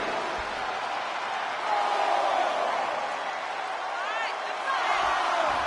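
Video game stadium crowd in WWE 2K23 roaring and cheering at a wrestling match, a steady loud wash of noise that swells around the midpoint and again near the end.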